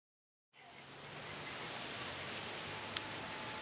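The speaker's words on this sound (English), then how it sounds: "Rain, apparently." Steady rain hiss from the video game Lost Judgment, starting after a half-second of silence and holding even and close, with one brief sharp tick near the end.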